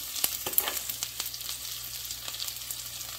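Tempering for a Jaffna-style cassava curry sautéing in a pan, a steady soft sizzle and crackle with a few sharp pops and the scrape of a spoon stirring now and then.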